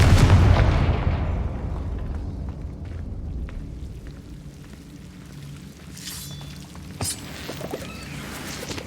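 The Confringo explosive spell from Hogwarts Legacy goes off with a heavy boom that rumbles and decays over a few seconds, followed by softer crackling and a couple of sharp impacts.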